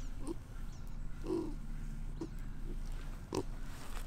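Pigs on a reptile homestead give a few short, soft grunts spaced irregularly over low background noise, close but faint.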